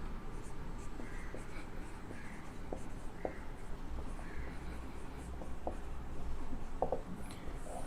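Pen writing out a heading for rhombic sulfur in a chemistry lesson on sulphur allotropes, a steady soft scratching with faint taps running throughout, close and fairly quiet.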